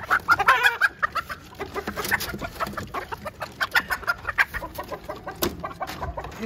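Hens in a cage give repeated close clucks in an irregular stream of short calls, with a few higher squawks mixed in. The clucking carries on throughout and no one speaks over it.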